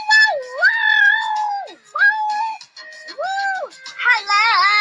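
A voice lets out a series of long, pitched screams and hollers for a high school rock band, several sustained sliding cries with short gaps, loud and close.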